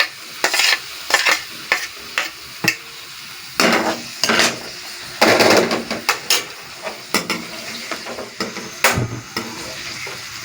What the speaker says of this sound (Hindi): अब हम हरी मिर्चें और इसके साथ टमाटर डाल देंगे।